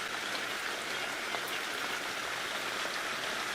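Heavy rain pours down in the African bush as a steady, dense hiss that holds at an even loudness throughout, with no voices over it.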